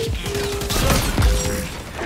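Rapid gunfire bursts in the video game XDefiant, dense overlapping shots with a heavy low thump, loud and close over a faint electronic tone.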